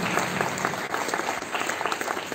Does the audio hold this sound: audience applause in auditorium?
yes